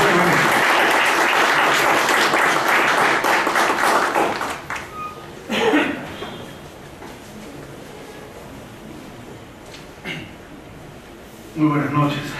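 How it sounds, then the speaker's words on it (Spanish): Audience at an evening law lecture breaks into loud, dense applause that lasts about four seconds and then fades. A few scattered claps and faint room noises follow in a much quieter hall. "un fuerte aplauso para el doctor Bonifacio"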